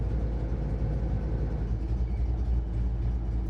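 Blower motor running inside a 1970 Dodge Challenger R/T with a 440 V8, a steady low droning hum that holds even and continuous throughout, with no talking.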